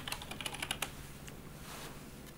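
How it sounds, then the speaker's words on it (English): Quick run of keyboard keystrokes on a computer keyboard during animation work in OpenToonz, a burst of close, crisp clicks in the first second followed by a few isolated taps over faint room hum. "I'm just gonna hit 1 on the keyboard."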